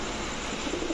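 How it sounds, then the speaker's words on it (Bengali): A pair of large Sirazi pigeons, a black male with his mate, coo softly and steadily at close range through one second against a constant background hiss. "অনেক বড় সাইজের একটা জোড়া, একদম টকটকা লাল গিয়ারের 1 জোড়া সিরাজি কবুতর।"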